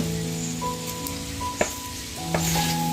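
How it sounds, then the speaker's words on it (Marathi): Colocasia leaf rolls made with kulith flour sizzle steadily as they fry in oil in a pan, a continuous close crackle with a few sharper pops and a faint tonal hum underneath. "आता मी तळून घेते. आता मी तेल ओतून घेते"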